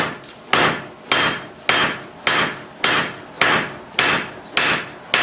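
Sharp hammer blows strike hot steel while forging bolt jaw tongs at the anvil, about nine loud, evenly spaced strikes, each ringing briefly before the next.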